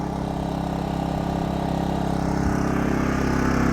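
A DINKING 3000-watt dual fuel inverter generator runs close by, holding a steady, loud engine drone with a constant hum throughout and no voices.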